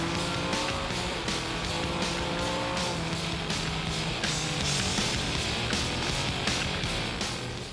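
A race car is driven hard and slid sideways on a track, constant loud engine roar from close by with tire noise, no talk heard.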